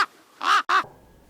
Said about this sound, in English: Eric, or Clink, this crow comes over.